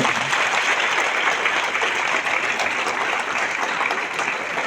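An audience at a felicitation ceremony for teachers breaks into sustained, even applause from many hands, dense and steady throughout before tapering slightly at the end.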